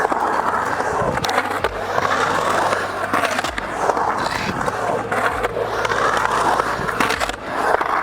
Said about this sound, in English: make a remix of the sounds that Tate is generating in the shallow end on his frontside slashes